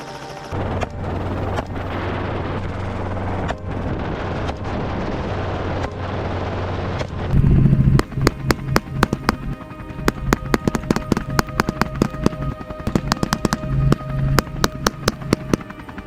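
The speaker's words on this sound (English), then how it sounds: "we also took advantage of the opportunity and shot down a few more wild boars" Gunfire during a large wild boar hunt with hounds and drones in California; a steady roaring wash gives way to a dense run of sharp, loud, rapid shots cracking over one another, with no speech.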